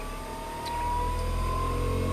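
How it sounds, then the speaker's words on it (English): The engine of a fuel car being converted to electric hums steadily, then its pitch rises as the revs climb, heard from close inside. "you hear the engine is running, start running higher speed"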